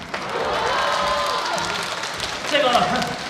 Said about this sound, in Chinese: 只要你们掌声不断，我可以变到明天早上8:30。